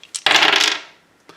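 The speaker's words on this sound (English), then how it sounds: "I'm using my horn dice." Horn dice rattle and clatter briefly across a hard surface during a tabletop roleplaying character creation for Into the Odd, a single loud close roll lasting under a second before settling.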